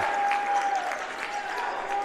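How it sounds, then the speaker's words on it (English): Crowd cheering and applause at a college basketball game between Bowdoin and St. Joseph, a steady wash of clapping and shouts filling the gym at moderate distance, with a faint steady whistle-like tone running through it. "And the St. Joseph bench is up and cheering."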